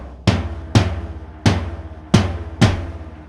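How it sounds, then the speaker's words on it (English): A low tom and kick drum struck together on a drum kit, five deep booming hits in an uneven rhythm, each ringing out and decaying before the next. "I also added the low tom with the kick to bring in more low end."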